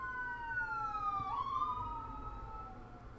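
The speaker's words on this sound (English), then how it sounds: "there's going to be some siren noises possibly in the background." A police-style siren wails from traffic on a busy street, its rising and falling tone carrying steadily over low road rumble at a moderate distance, with no talking.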